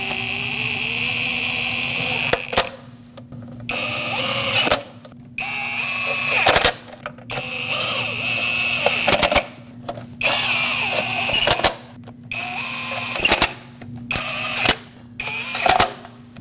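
Ignition coil bolts on a 2006–2015 Lexus IS250 are snugged down with a hand tool in a cross pattern. Short bursts of rapid ratcheting clicks repeat about a dozen times, close up, separated by brief quiet pauses.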